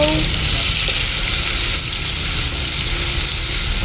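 Cluster beans and tomatoes frying in a pan, a loud continuous sizzle with a dense hiss that stays steady throughout, with faint stirring beneath.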